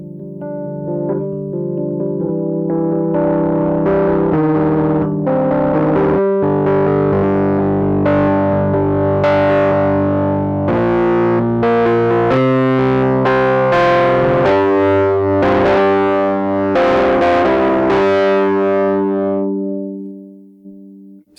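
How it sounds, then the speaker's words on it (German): Rhodes MK8 electric piano run through preamp distortion, a gritty overdriven sequence of chords and notes ringing out over about twenty seconds before decaying to silence. "Wir haben hier einen Preamp, können auch zum Beispiel ein bisschen Verzerrung einfach hinzufügen."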